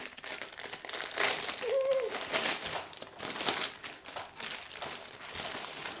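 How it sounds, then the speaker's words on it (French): Biggestcraft cross-stitch kit packaging being unwrapped, with plastic crinkling and rustling in bursts close up, and faint birds cooing in the background. "Je vais vous le déballer."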